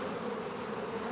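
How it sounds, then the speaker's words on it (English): Honey bees buzz steadily inside an overwintered backyard hive during a spring inspection, a dense continuous drone close by, with no talking. "There are bees in here as well."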